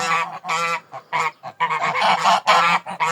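Domestic geese honking close by in a quick series of loud, nasal calls with short gaps between them, and no talking.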